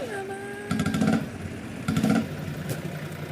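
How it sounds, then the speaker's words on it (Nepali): A Bullet motorcycle engine in a Nepali open-world video game, a short putter that rises in two brief rev bursts over a steady idle, with a tonal game sound at the start and light background talk. "ल बुलेटको सरर बाइक लिएर हिँड्ने हामी"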